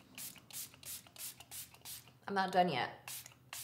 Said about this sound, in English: I'm gonna grab some setting spray.